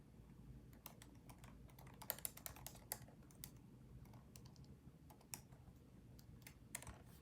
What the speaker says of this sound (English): Let me type to you guys.